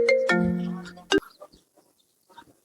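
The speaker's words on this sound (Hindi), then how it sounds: "फोन आवता है" A mobile phone rings with a loud electronic tone lasting about a second, stopping abruptly before a short quiet stretch with a few faint clicks and rustles.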